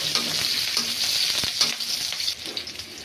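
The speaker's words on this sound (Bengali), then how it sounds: "এখন আমি সম্বার দেব, রসুন সম্বার দিলাম" Garlic tempering sizzles steadily in a small amount of hot oil in a pan, a bright, close crackle with occasional soft knocks and stirring sounds, no one talking.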